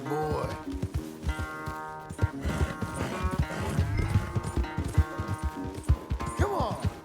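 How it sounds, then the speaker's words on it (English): Horse hooves clip-clop in an uneven, busy rhythm in Red Dead Redemption 2, loud and close, with snorts and a brief whinny mixed among the hoofbeats over a low musical drone. "Where's that big mean horse?"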